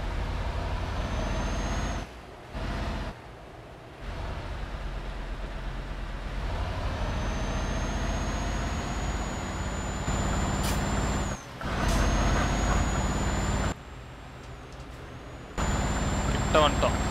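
Heavy truck in Euro Truck Simulator 2 idling and creeping in reverse, with a steady low engine drone, hissing air brakes and a thin high warning tone, while someone talks over it throughout.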